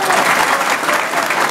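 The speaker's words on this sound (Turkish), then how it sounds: "Kendisini bir defa da alkışlayalım." An audience at a general assembly of a Mudanya association claps together, a dense, steady round of applause heard close and fairly loud throughout.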